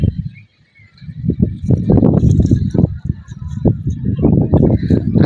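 Chickens kept on a house rooftop terrace give loud, close, irregular clucks and squawks in quick bursts, with a brief quiet gap near the start.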